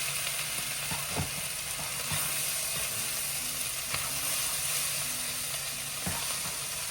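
Vegetables sizzling in a pan for loaded fried rice over lowered heat: a steady, quiet hiss with scattered faint clicks and pops, no talking.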